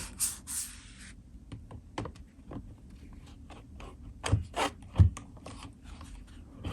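A Nintendo Switch OLED in a Spigen thin fit case is slid into and lifted out of its dock, giving sparse scraping rubs and sharp plastic clicks and knocks, close and fairly quiet.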